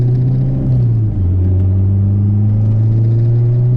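A car running straight E85 fuel pulls hard in third gear, its loud engine drone rising steadily in pitch as it accelerates, heard close from inside the cabin with no talking.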